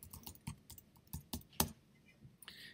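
Quick, uneven bursts of keystrokes on a computer keyboard, close and fairly quiet, with short pauses between clusters of taps and no talking.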